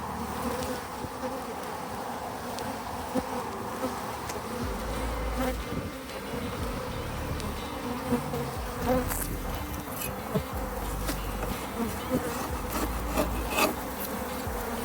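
Honeybees buzz steadily around a hive during a beekeeper's inspection, a dense continuous drone with individual bees flaring louder as they pass close, with no voices.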